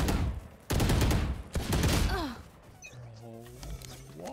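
A video game shootout, with rapid bursts of close gunfire in quick volleys, followed by a quieter stretch with a tonal game sound, as players talk over it.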